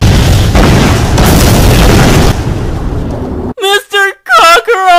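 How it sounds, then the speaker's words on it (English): Cartoon explosion effect as a loud, sustained booming roar that fades out over a few seconds, followed by a voice speaking. "Sounded like an explosion!"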